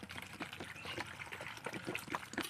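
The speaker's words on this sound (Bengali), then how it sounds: "এর মধ্যে একটু জল দিয়ে সিদ্ধ করে নেব" Water trickles and pours into chopped tomatoes in a cooking pot for boiling, making a steady splashing stream at close range with no talk over it.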